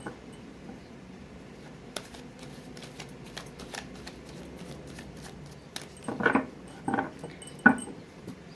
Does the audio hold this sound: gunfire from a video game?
no